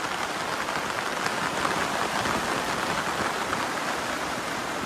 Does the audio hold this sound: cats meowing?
no